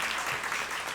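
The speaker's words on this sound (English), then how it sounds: "Can we get a round of applause for them?" Audience applause at a women's community roadshow event, a brief dense burst of clapping from a crowd, fairly faint and steady.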